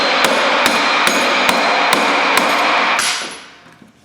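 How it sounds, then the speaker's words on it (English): A waffle face claw hammer strikes metal during a rear wheel bearing job on a Toyota Tacoma, six sharp, evenly spaced blows ringing out loud and close before fading quiet. "You ain't a mechanic unless you got a waffle face claw hammer kicking around."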